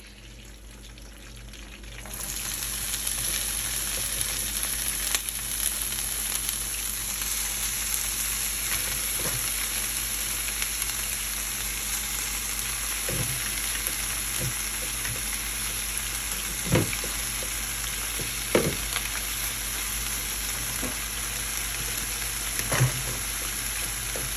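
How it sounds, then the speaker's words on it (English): Cabbage hits a hot pan and sizzles, a sudden onset of steady frying hiss after two seconds that continues loud and close, with occasional soft clicks of stirring and no speech. "So I'm about to put the cabbage in."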